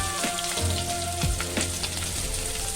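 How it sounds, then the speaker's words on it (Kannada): Chopped medium onion frying in hot oil with cinnamon and cloves, a steady close crackling sizzle throughout with no voices. "ಇದು ಸ್ವಲ್ಪ ಫ್ರೈ ಆಗಲಿ."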